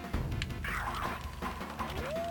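A dog character in the action game Sengoku yips and whimpers amid busy combat effects and a rising tonal sweep, loud and layered over constant game noise.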